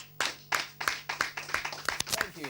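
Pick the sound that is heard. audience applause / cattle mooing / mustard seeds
audience applause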